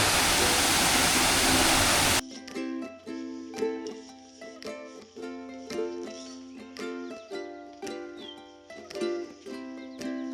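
Huai Yang waterfall in Prachuap Khiri Khan, Thailand, flowing in a steady, dense roar that fills the scene, with some close clatter and knocking on top.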